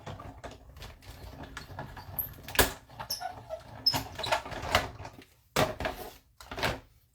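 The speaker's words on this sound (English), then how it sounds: "let's put this through the cut and emboss machine" Card stock passes through a cut and emboss machine with a string of close, muffled creaks, clunks and sharp knocks, irregular and fairly quiet, as the plates crank through.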